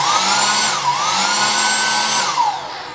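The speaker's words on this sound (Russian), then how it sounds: "Нормальный фен. Две мощности." A hotel room hair dryer blows with a steady high-pitched whine, which dips briefly in pitch, then winds down as it shuts off near the end.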